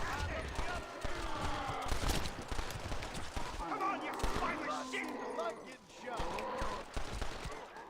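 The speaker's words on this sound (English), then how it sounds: "Are they shooting each other?" Gunshots crack out in the Red Dead Redemption: Undead Nightmare game, several sharp shots scattered through the clip beneath near-constant chatter from players talking over the action.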